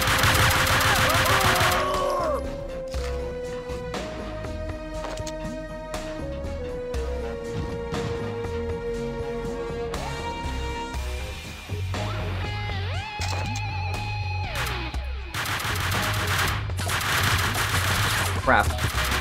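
Rapid MP5 submachine gun bursts and gunfire from the video game Max Payne 2, loud and sharp over a dense game soundtrack, firing in repeated volleys that stop and restart across the clip.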